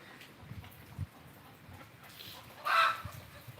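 Tired hens cluck softly and intermittently in the background after rain, with one louder, sharper call near the end.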